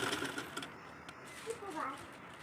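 A sewing machine stitches a strip onto a round neckline, its steady whir running softly beneath someone talking.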